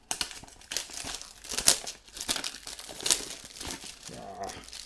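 Plastic packaging crinkles and crackles while a wargaming paint set, a US-themed set of model paints, is unboxed, with several sharp crumpling bursts spread across a close, busy stretch and no talking.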